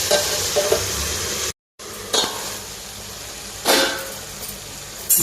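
Curry leaves frying in a pan for a fresh coconut chutney, a steady close sizzle broken by scraping stirs and a few metallic clinks of the spoon against the pan, with a brief gap of silence.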